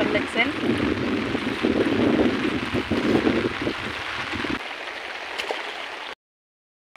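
Floodwater rushes across a road in a broad, steady hiss, buffeted by wind noise on the microphone. People talk over the water before it cuts to silence.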